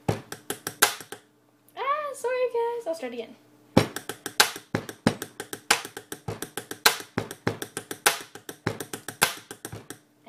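Rapid pen tapping beat played fast with pens on a desk, loud close clicks and knocks in a dense rhythm, broken by a short spoken apology before the tapping resumes.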